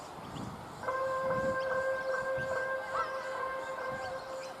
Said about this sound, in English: the bell's just gone to let the Wellington Point State High School students out of class